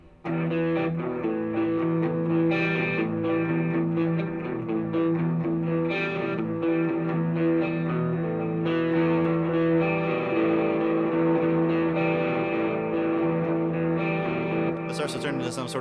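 Electric guitar run through delay, distortion and cathedral-style reverb builds into a dense, sustained post-rock wall of noise, loud and continuous with layered echoing tones.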